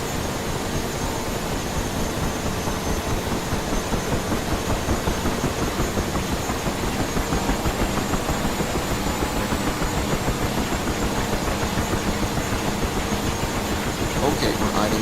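A helicopter's rotor and turbine spin up in the DCS flight simulator game, a dense, even whine and whoosh that holds steady at moderate loudness for the whole stretch with no talking.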